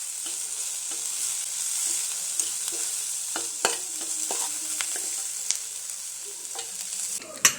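Sliced onions fry in a pan for a jackfruit-seed curry, a steady soft sizzle broken by repeated scraping stirs and a louder clack near the end, with no talking.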